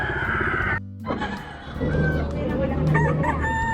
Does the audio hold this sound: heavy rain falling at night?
no